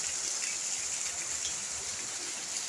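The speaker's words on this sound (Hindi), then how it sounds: "बारिश हो रही है, देखिए बहुत तेज पानी बरस रहा है।" Heavy rain pours steadily during an afternoon downpour, a continuous hiss of water falling with no distinct drops standing out, fairly loud and unbroken for the whole stretch with no voices.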